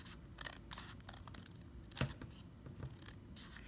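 Scissors snip along the lines of a paper snowflake template in a quiet room, giving a series of short, crisp cuts and paper rustles at close range with no speech.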